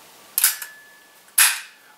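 Two sharp mechanical clicks from a Weihrauch HW75 Target air pistol being dry-fired after the hammer is cocked, each a crisp snap with a short metallic tail, about a second apart, close and alone.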